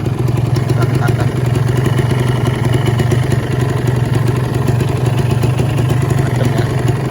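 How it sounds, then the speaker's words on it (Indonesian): Two-stroke engine of a 2015 Kawasaki Ninja R motorcycle idling steadily up close, a loud continuous low buzzing hum with fine clattery ripple throughout and no voices. "Suara mesin adem ya."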